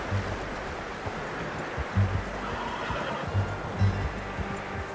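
A horse in Red Dead Redemption 2 neighs in short repeated whinnies over a steady wash of ambient outdoor noise, with some hoof-like thuds mixed in, fairly close and clear.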